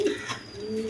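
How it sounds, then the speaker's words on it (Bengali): A pair of Lotan pigeons gives a brief, low, humming coo up close, alone and over in under a second. "এখানে এক পেয়ার কবুতর আছে দেখেন, লোটন কবুতর"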